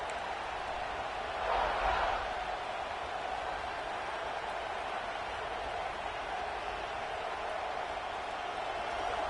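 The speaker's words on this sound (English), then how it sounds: "Listen to the crowd energy here in the early going." A broad, steady roar of a large college football stadium crowd at Texas A&M versus Georgia, with a brief swell of louder cheering early on before settling into a constant wash of noise.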